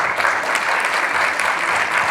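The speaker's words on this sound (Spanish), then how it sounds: "Fuertes aplausos, por favor." An audience at a volunteering forum panel in Arequipa breaks into dense, continuous applause, steady and fairly loud throughout with no talk.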